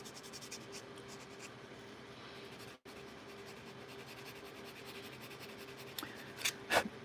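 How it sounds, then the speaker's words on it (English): Hand sanding of a molded paper part on a model HALO Warthog truck, a steady close scratchy rubbing that continues almost throughout with one brief pause, ending in a few sharper strokes. "sanding on them and getting them to fit better"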